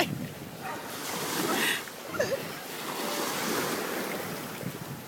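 Ocean surf breaking along a beach with a dog playing in the water, a continuous rushing roar of waves with gusty wind buffeting the microphone and no clear voices.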